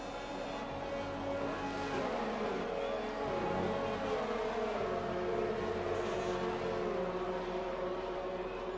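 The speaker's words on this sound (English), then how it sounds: "The cars making their way around at the grid" Race cars in the F1 2020 video game on the grid at the Canada round, a steady layered engine drone with pitch shifts as the cars roll around, continuous and moderately loud with no talk.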